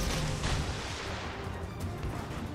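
Naval guns fire in World of Warships Legends during its Halloween 2023 event: heavy booming salvos roll under a dense, continuous rumble of battle, loud and close with no talking.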